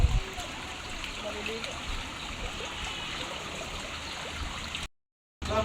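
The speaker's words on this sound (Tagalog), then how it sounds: "Kaya po tuloy-tuloy na po ang tubig" Water pours steadily into a pig pen, a soft continuous trickling rush heard at moderate distance, broken by a brief gap near the end.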